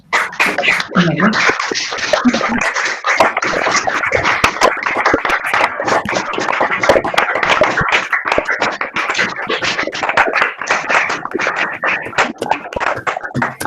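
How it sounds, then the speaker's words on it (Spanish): Webinar participants clap with open microphones, producing a jumble of uneven taps and claps from many sources, mixed with overlapping voices throughout. "Y les voy a pedir que por favor le den un fuerte aplauso con el micrófono abierto a Javier."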